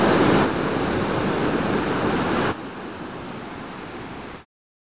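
Pacific Ocean surf breaking steadily on a beach near an estuary, a loud continuous broadband wash that drops to a softer roar partway through, heard alone without any voices.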